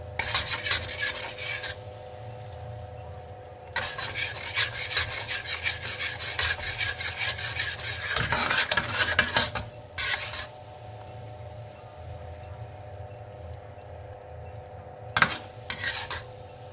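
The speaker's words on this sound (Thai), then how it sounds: "เดี๋ยวเฮาสิเอามันที่เฮาเตรียมไว้มาใส่ได้เลยจ้ะ" A utensil scrapes and stirs sliced potatoes in a pan for butter-glazed potato chips, steady rasping strokes in bursts with short pauses and a faint sizzle underneath, close and fairly loud without talk.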